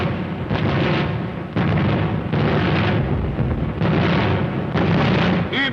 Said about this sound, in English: englische Flak ist auf dem Posten. Ein wahrer Feuerhagel prasselt uns entgegen.